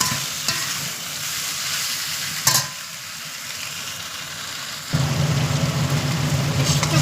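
Prawns fry in a pan, giving a steady close sizzle and crackle with a brief stirring clatter near the start, then a louder, fuller sizzle after the pan is disturbed midway, with no talk.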